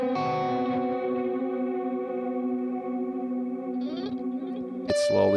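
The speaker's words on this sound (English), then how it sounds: "it's going to start oscillating the sound that I just played." A sustained, buzzy guitar tone runs through an ML Sound Lab Bulb Zilla preset, its chorus-like wobble and feedback building as stacked harmonics shimmer and smear, alone and fairly quiet, swelling slightly near the end.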